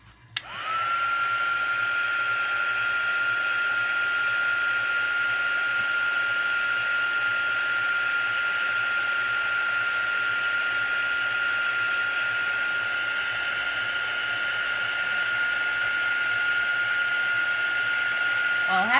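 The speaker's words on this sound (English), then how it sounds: "So now I'm gonna heat emboss" A heat embossing gun blows steadily for nearly twenty seconds while heating embossing powder, giving a loud, even whine and rush of air after a quick start-up, with a voice briefly underneath.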